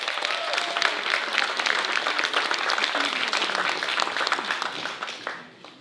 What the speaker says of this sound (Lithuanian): Dar kartą jūsų aplodismentai.